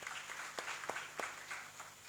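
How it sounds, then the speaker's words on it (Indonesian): Congregation applauding at a night-of-worship church service, soft diffuse clapping from a crowd with a few sharper, nearer claps standing out, faint and brief. "Kasih tepuk tangan buat Tuhan Yesus dulu"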